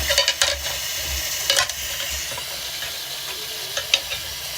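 Surgical instruments being rinsed in water make splashing and sloshing bursts with occasional metallic clinks, heard close and fairly loud in uneven clusters.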